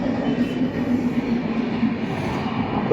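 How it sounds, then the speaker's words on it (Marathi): A train rumbles steadily past, a continuous low roar of rail noise with no voices, loud and close throughout. "रेल्वे बघा."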